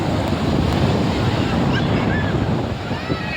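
Sea waves washing onto the beach at Bhavani, a steady, loud roar of surf with wind buffeting the microphone throughout.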